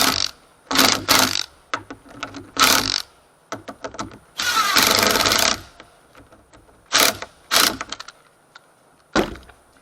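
Threaded screws are driven into a board with a socket driver, loud whirring bursts of the power tool separated by quiet pauses, one longer sustained run in the middle.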